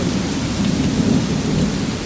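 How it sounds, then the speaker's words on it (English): Heavy rain with thunder during a hot-weather downpour: a dense, steady roar of pouring rain with a low rumbling undertone, loud and continuous, with no talk. "We're getting absolutely blasted with rain."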